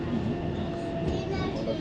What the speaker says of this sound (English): There's the other DLR train that's coming in.